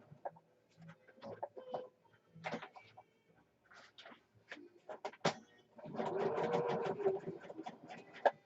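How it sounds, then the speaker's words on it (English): A sewing machine stitches along the raw edges of patchwork junk journal pages, starting and stopping in short bursts before a longer continuous run near the end; faint and close with no talking. "So wherever there's a raw edge, I'm going to be stitching."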